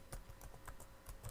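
Quiet, close taps on a computer keyboard come in an irregular run of soft keystrokes over a faint background hiss.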